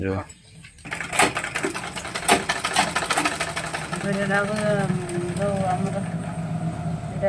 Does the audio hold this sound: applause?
no